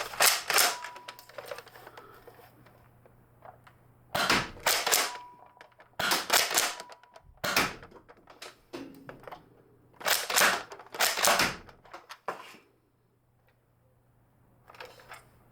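A NERF Halo Bulldog SG pump-action dart blaster slam-fires in bursts, its sharp clacking pump strokes and dart shots coming in quick clusters separated by short pauses, close and fairly loud with no talking.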